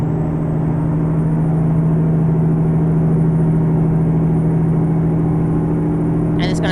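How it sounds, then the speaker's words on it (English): A Cummins X15 truck engine in American Truck Simulator, a loud, steady low diesel drone with a strong even hum, holding constant pitch throughout, ending with a short rattle of other noise. "Right now, this is the Cummins X15."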